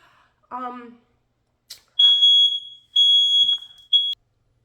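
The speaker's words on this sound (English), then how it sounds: "my smoke alarm went off" A loud, high-pitched smoke alarm sounds in three long electronic beeps, following a brief bit of speech at the start.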